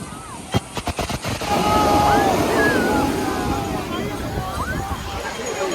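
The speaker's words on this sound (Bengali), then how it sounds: "এখন প্রচুর পরিমাণে ঢেউ আসছে বড় বড়" Large waves crash and roll as surf at Puri beach, a steady roar of water with voices and crowd noise in the background; a few sharp knocks come early on.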